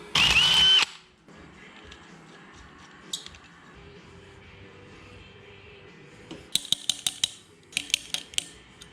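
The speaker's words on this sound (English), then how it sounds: "Here we go, drill a hole." A power drill bores a hole in a small metal hold-down tab while a boosted Mercruiser 140 3.0L boat engine is being assembled. One short, loud, high whine opens the clip, followed by scattered clicks and metallic handling taps.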